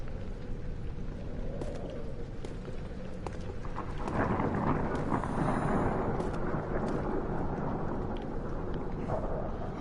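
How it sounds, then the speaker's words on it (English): Thunder in the video game Amnesia: The Dark Descent. A deep, loud rumble swells in partway through and rolls on steadily with a rain-like wash over a constant low ambient drone, with no talking. "Oh great, and now there's thunder?"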